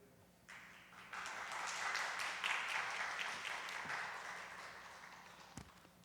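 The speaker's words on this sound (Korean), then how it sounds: "우리 나오실 때 경동제일의 박수로 환영하겠습니다." Applause rises from a quiet church hall into a sustained round of many people clapping at a mission team commissioning service, holding steady for several seconds before easing off.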